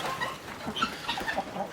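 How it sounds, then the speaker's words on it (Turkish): A giant farmyard rooster gives a run of soft, short clucks and chirpy calls, fairly faint against a quiet outdoor background. "Bizim dev horoz nerede? Burada."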